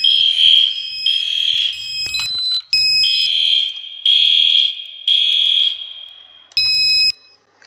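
An EST Genesis fire alarm system in a Roblox game sounds a loud electronic tone in repeated on-off pulses, with several high strobing beeps layered in between, harsh and close.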